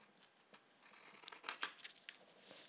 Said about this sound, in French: il faut que je le fasse ici, par ciseau, parce que j'ai pas de tapis de coupe à cet endroit-là